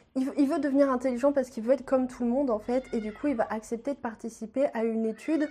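A cat meows repeatedly and insistently, its wavering cries mixed in with someone talking steadily throughout at moderate volume.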